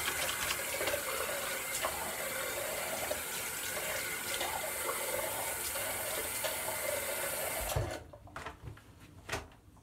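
Water runs steadily from a tap to wet a beard before a straight-razor shave, a continuous hissing splash for several seconds with faint handling noises, then it stops abruptly and leaves a few soft bumps and rustles.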